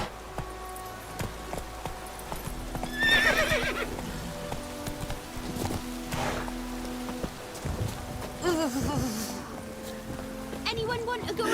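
Roach, the horse in The Witcher 3 video game, neighs and whinnies while hooves clip-clop at a gallop in a rain setting, a sharp whinny standing out partway through over steady rainfall, with a voice speaking over it.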